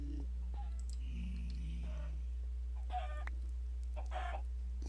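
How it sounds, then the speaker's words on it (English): A chicken in the video game Minecraft gives a few short, quiet clucks over a low steady hum, with faint game clicks and no talk. "Stupid chicken."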